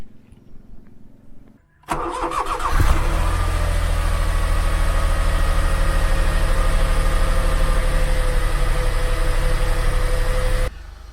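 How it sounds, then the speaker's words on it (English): After a quiet stretch, a car engine with fresh oil and a new air filter cranks and starts, then settles into a steady, loud warm-up idle that runs on evenly before cutting off at the end. "engine's warming up and running with fresh oil, new air filter"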